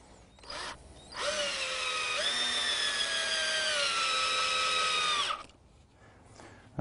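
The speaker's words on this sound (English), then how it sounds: "Let me pre-drill that." A cordless power drill pre-drills wood for 2.5 inch exterior deck screws on rustic furniture legs, a close whining spin of about four seconds that shifts pitch as the bit bites in, with brief handling noise before and after.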